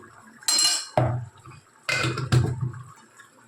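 Curry of elephant foot yam and prawns stirred in a pot after sugar is added, with short scraping and clinking bursts of a spoon against the pot, three separate strokes with quiet pauses between.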